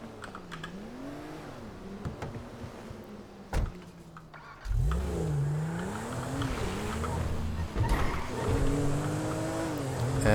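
Car engine in GTA 5 revving and shifting as it drives, pitch sweeping up and down with gear changes, steady and fairly loud, with brief clicks and knocks along the way.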